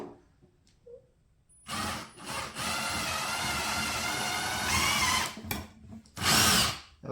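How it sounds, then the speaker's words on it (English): A power drill whines steadily for a few seconds, driving a screw into wood while building a kids' Adirondack chair, then stops, followed by a couple of short bursts; close and loud, no talking. "now you can go ahead and drill 2 more screws there"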